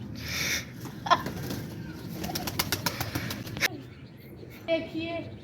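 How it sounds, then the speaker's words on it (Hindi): Several pigeons in a cage coo softly on a cold day, with low murmuring calls and a few sharp wing flaps or clicks over faint background noise, mostly quiet and close. "ये देखिए मेरे पीछे तीन कबूतर हैं।"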